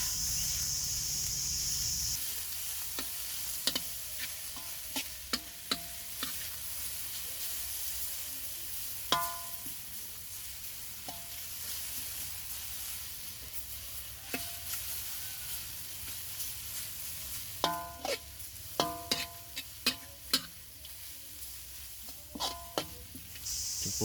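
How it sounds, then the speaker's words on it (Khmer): Noodles stir-fried with fried garlic and sugar make a soft, low sizzle, broken by scattered sharp clicks and scrapes of tossing utensils that cluster more densely toward the end. "យើងធ្វើការដាក់សាច់មីចូលច្របល់ជាមួយគ្រឿងដែលយើងបានបំពងខ្ទឹមនិងស្កររួចសូមមកច្របល់ចូលគ្នា"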